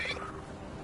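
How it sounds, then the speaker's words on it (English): A nug, a small creature in Dragon Age: The Veilguard, gives a soft, brief purr up close, fading quickly into quiet ambience. "he purrs when you scratch him"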